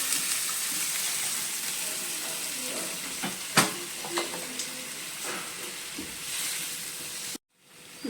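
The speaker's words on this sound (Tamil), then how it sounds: "நாம் அரைச்சி வச்ச வெங்காயம், தக்காளி, முந்திரி பருப்பு பேஸ்ட்டை இதில் ஆட் பண்ணிக்கலாம். கொஞ்சமாக தண்ணி ஆட் பண்ணிக்கலாம்." Onion, tomato and cashew paste thinned with a little water cooks in a pan for chicken butter masala, giving a steady close sizzle with a few stirring clinks and scrapes, ending in a brief silence.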